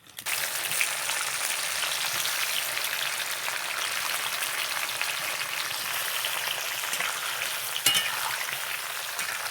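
Mustard oil with panch phoron whole spices sizzling in a hot pan, a steady, dense frying hiss that runs throughout, with a faint pop near the end and no talk.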